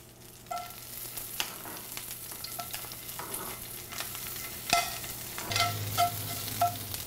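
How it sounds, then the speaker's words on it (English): Garlic frying in a pan over medium heat, a steady soft sizzle with a few clicking stirs and clinks of a utensil against the pan, close and fairly quiet, no voices. "using the same pan, I turn it down to medium, and I add my garlic"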